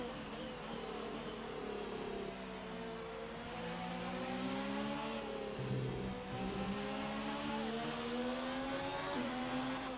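A race car in a TTM Tier 1 Mini Series round in Belgium drives on a wet track, its engine droning and shifting pitch through gears with a continuous rising and falling whine.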